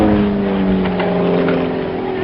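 Small aeroplane with an 80 horsepower Jabiru engine, flying at an air show, giving a steady, even drone with a few faint rises and dips in tone across the whole stretch.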